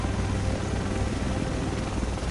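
Helicopter in Tom Clancy's The Division, a steady loud rotor and engine roar filling the clip without pause or voices.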